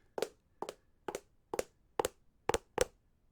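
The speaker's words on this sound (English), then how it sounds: "So you give a little half step when they've stopped" Seven crisp foley footsteps tap at a steady walking pace on a hard floor, close and clear, the last two coming slightly closer together as a half step when the walker stops.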